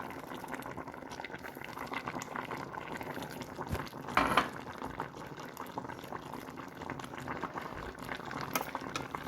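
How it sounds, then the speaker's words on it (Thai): Thai kaeng tai pla, a central-style fish-organ curry, bubbles away in a pot with a continuous close simmering burble and a brief louder clink or splash midway; no one speaks. "แกงไตปลาก็เดือดแล้วค่ะ"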